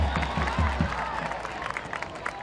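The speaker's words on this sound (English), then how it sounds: "Crowd appreciates the outstanding defensive work of DeJuan Jones." Home soccer crowd at a Michigan State versus Maryland men's match applauds and cheers a defensive play, a broad wash of clapping and cheering heard from the stands that starts strong and then fades to a softer murmur.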